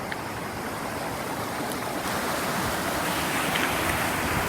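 Water pouring over a spillway dam at a waterfall in Gia Lai, in the Central Highlands, as a steady broadband rushing roar, continuous and fairly loud with no break or talk.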